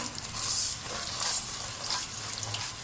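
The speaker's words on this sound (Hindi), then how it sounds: "ये हमारा घी मेल्ट हो चुका है। इसमें हम मखाने डाल देंगे। इसको हम ब्राउन करेंगे।" Makhana (fox nuts) fry in melted ghee with a steady, dense sizzle and crackle, plus occasional stirring scrapes, close and continuous with no talking.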